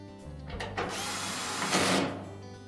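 A power drill drives screws into the bulkhead of a Whirlpool dryer during a drum roller repair. Two close, loud whirring runs of about a second each come after some brief mechanical handling noise, with no voices.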